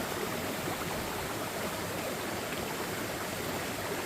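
A waterfall beside a mountain hiking trail gives a steady, loud, continuous rushing roar with no pauses, close by, and no one speaking over it.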